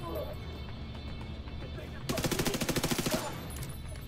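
Rapid burst of MP5 submachine gun fire in The Division 2, a loud close rattle of about a dozen evenly spaced shots over a second, after quieter game ambience.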